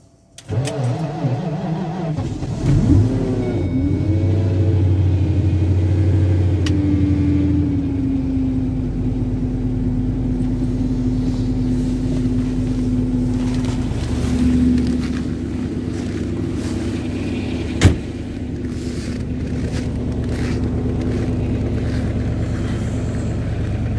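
A car engine idles after an extreme cold start at -40°C, starting with rough cranking and catching, then settling into a loud, steady droning idle. A single sharp knock is heard partway through, and no one speaks.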